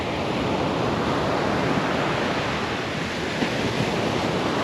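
Steady Pacific Ocean surf near a stranded World War I cement ship, a continuous broadband wash of breaking waves with light wind, loud and even throughout with no voices.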